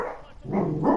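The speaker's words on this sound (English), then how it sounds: "the other dog begging to be let back in, so that he can also defend the territory" A dog barks in two quick, close, loud bursts while begging to be let back inside.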